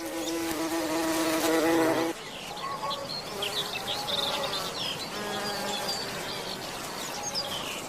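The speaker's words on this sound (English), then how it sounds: "it might be a leaf cutter bee." A leafcutter bee in a garden buzzes loudly and close with a steady droning hum for about two seconds. Fainter insect buzzing and light chirps follow.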